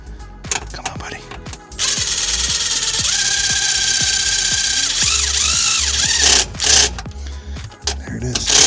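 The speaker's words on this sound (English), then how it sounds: "Can I get the drill in there?" A power drill whirs in steady bursts, driving in a fastener at close range, with rapid mechanical clicking before a sustained run and a few short pulses at the end.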